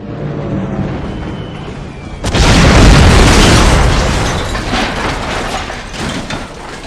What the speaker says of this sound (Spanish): oí el impacto de un cohete en la parte sur del edificio, cuya explosión hizo temblar las paredes